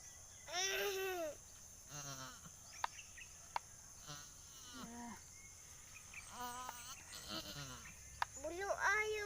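A mother goat and her newborn kids bleat in repeated wavering cries, close and moderately loud, while people talk nearby and a few sharp clicks punctuate the scene.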